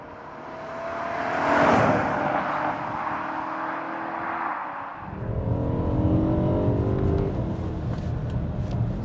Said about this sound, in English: that sound is the masterpiece of the E92 M3, and that is a S65 engine, a 4-litre V8